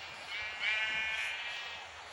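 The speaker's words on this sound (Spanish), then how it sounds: "Vamos, ahí van las ovejas." A single sheep bleats in a soccer video game, a quiet, wavering cry that rises and fades over about two seconds with no talking.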